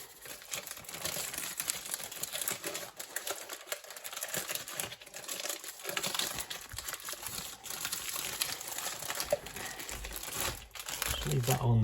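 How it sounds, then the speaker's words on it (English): A knife cutting into stiff, crinkly plastic packaging around a chicken: close, irregular crinkling and tearing rustles, with a faint voice now and then in the background. "This plastic is a bit hard to cut into."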